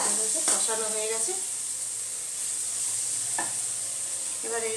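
Spice paste for a Bengali prawn curry fries and sizzles in a pan with stirring scrapes, a steady close crackle with brief voice fragments.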